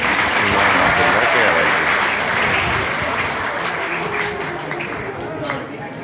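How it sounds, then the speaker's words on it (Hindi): Sustained audience applause at a Shrimad Bhagavat Katha religious discourse, loud dense clapping filling the space, slowly thinning toward the end with voices mixed in. "एक बार तालियां आप उनके लिए बजा दीजिए"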